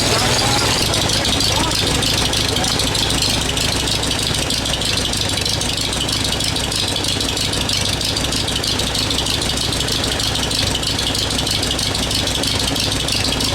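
An old Farmall tractor engine runs at low RPM, a steady loud rattling chug that continues without break, with possible voices underneath.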